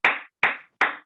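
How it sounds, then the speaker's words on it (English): Three distinct, evenly spaced claps at a youth leadership summit, crisp and close, each sharp hit decaying quickly into silence. "Let's clap for her."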